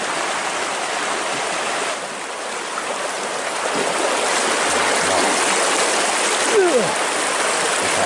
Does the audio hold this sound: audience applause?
no